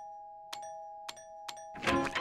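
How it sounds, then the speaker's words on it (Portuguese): A cartoon doorbell chimes in a SpongeBob SquarePants episode: a sustained electronic tone with three sharp presses, ending in a louder, noisy burst. "Acho que a campainha tá quebrada, Lula Molusco."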